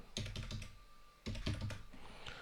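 Computer keyboard keys clatter as a username and password are typed, in two quick bursts of clicks separated by a short pause, close and fairly quiet, with no talk.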